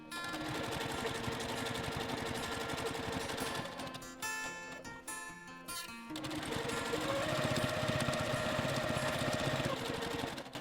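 A sewing machine runs in steady bursts, stitching back over a previous seam line on a Bali-inspired boho bag, with a brief pause midway before the motor picks up again, close and continuous.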